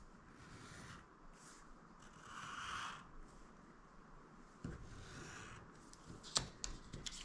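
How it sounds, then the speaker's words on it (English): Pencil drawing guidelines around a 2-inch paper square template on paper for a fussy-cut paper quilt craft: soft, continuous scratchy scraping strokes close by, with a few small rustles and taps near the end, no talking. "I can position it and draw some guidelines so I can cut it out"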